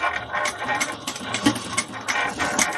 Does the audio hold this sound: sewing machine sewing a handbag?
yes